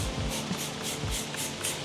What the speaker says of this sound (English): I'm gonna spray this on it and show you.